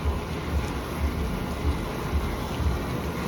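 A Champion under-counter commercial dishwasher runs its wash cycle with a steady rushing water churn and a low pulsing rumble that repeats about twice a second.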